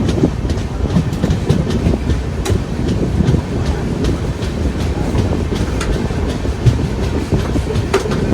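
Steady rumble and clickety-clack of the Kochuveli-Amritsar Express passenger train running on rails, heard from inside a carriage with continuous loud rolling noise and rhythmic wheel clicks.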